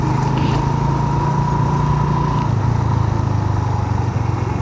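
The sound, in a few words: motorcycle riding past a toll plaza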